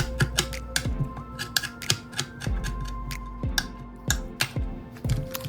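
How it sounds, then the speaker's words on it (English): Knife chopping fresh parsley on a cutting board: quick, sharp, uneven knocks in bursts of several strokes, close and fairly loud, with a faint steady hum underneath. "fresh parsley here. We're gonna cut this up"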